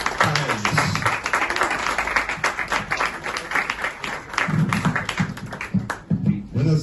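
A crowd at a history talk about Monterrey cantinas applauds its two guest experts: a sustained, dense burst of clapping several seconds long, close and loud, with a few voices and cheers rising beneath it toward the end.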